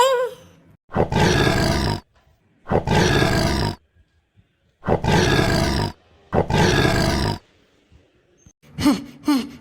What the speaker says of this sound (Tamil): என்ன 2 சிங்கம் வருது?